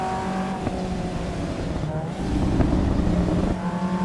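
Race cars in Assetto Corsa EVO sweep through a corner, their engines droning steadily with a rising rev and a faint tire squeal, close and continuous for about four seconds.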